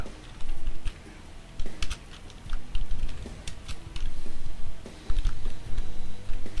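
Computer keyboard typing, close and busy, with fast bursts of clicking keystrokes broken by brief pauses, continuing steadily with no voices.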